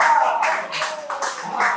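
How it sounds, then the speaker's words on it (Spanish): An audience claps at a live talk event in Argentina, a short burst of dense applause at steady volume that lasts the whole moment, with no talking over it. "la gente aplaude"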